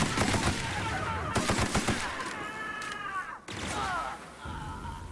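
Automatic weapon fire in the video game The Outer Worlds: rapid repeated shots in bursts, loud and close, broken by whooshing, whistling projectile sounds and a short pause, with no speech.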